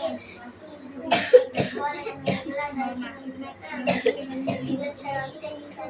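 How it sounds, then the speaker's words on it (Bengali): A child coughs several times in quick bursts, mixed with talking and throat clearing, close by. "আমার খুব খুব করে কাশি হচ্ছে"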